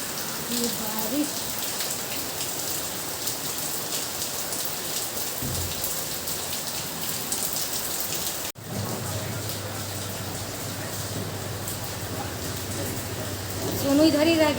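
Heavy rain pours steadily onto surfaces, a loud, dense, continuous hiss of drops close by, with a brief dropout midway and a slight swell near the end.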